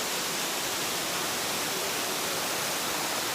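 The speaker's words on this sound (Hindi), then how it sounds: "मुझे तो ये वाटरफॉल बहुत पसंद है यार" Dense, steady roar of Badva falls, a continuous broadband wash of falling water with no breaks or voices.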